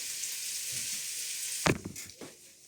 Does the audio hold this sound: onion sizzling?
yes